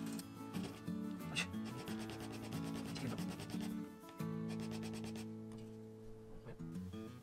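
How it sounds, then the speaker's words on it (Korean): Steady rubbing and rasping of sandpaper on a small wooden acoustic guitar bridge pin, repeated strokes close up, with a brief pause partway through. "사포로 조금만 갈았는데도 이렇게 사선으로 갈게 되었는데요"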